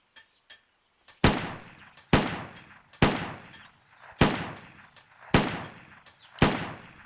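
Gunshots in a video game built in Unreal Engine 5, six loud, sharp reports spaced about a second apart, each followed by a short decaying echo, preceded by a couple of faint clicks.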